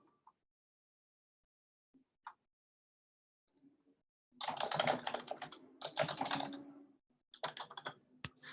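Keys on a computer keyboard clatter in scattered quiet bursts of typing, separated by pauses, with no speech over them.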